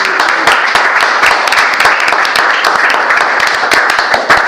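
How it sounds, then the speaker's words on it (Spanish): Audience applauding at a round-table discussion event, dense steady clapping from many hands sustained throughout without a break. "Un aplauso a Diego, que se nos va."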